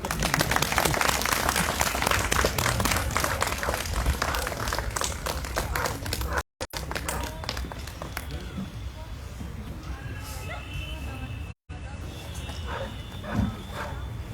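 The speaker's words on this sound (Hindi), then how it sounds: "अब आप लोग तालियां अवश्य बजाएं।" Audience applause at a New Year's Day 2023 gathering, steady dense clapping filling the first half, then fading into quieter room noise with scattered claps and some voices.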